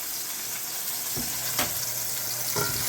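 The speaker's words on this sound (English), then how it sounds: "we're going to sear it on all sides" Lamb chops sear in a hot pan with a constant loud hiss and crackle, plus a few brief sharper spits and clinks.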